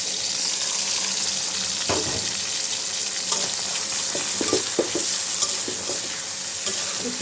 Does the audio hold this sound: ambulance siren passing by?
no